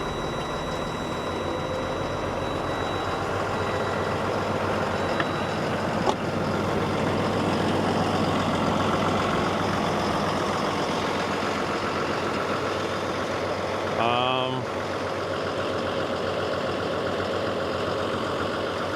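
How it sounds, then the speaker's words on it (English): A box truck's engine idles steadily with a low, constant rumble close by, without a clear rev burst; a short chirping beep sounds near the end. "Push the rev real quick."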